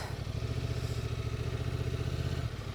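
A Honda Transalp 750 motorcycle rides through sand, its engine a steady, throbbing mid-pitched drone held near and fairly loud with a rattling clatter, easing slightly at the end.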